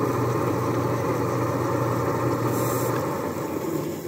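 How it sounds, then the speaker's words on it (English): Poultry defeathering plucker machine spinning steadily at a pastured poultry harvest, a continuous loud motorized drone and whir holding constant throughout with no talk. "From there, they go to the defeather plucker thing. It's got sprayers, and then you can all, and then you turn it on and it spins."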